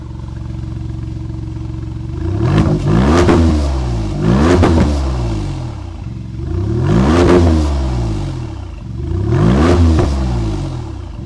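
A 2023 Maserati MC20 with a Capristo aftermarket exhaust revs hard three times, each throaty surge of exhaust rising, peaking, and dropping back to a rumbling idle between blips.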